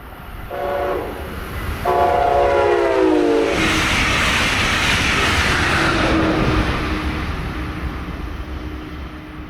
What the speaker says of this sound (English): Here is the Orlando Health Wrap southbound.